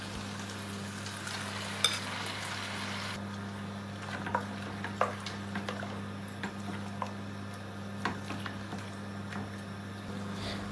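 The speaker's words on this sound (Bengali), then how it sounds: "মিট দিয়ে আমি চামচ দিয়ে লাড়িয়া দিছি।" Meat stirred with a spoon among frying onions in a pan, giving a steady low sizzle with scattered scrapes and clinks from the spoon, close by and with no talking.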